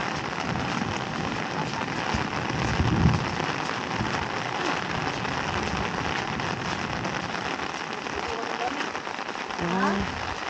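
Heavy rain pours steadily on a mountaintop, a dense continuous hiss of drops with a low rumble swelling briefly, while voices speak faintly beneath it.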